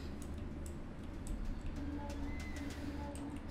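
Soft hooting calls of an owl in Far Cry Primal, a few faint repeated notes over a dense outdoor ambience with light ticking and rustling.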